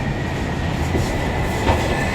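An elevated MRT Purple Line train passes overhead near Tao Poon station in Bangkok, a loud continuous rumbling roar with faint clatter of wheels on rails, steady throughout and heard from close below the track.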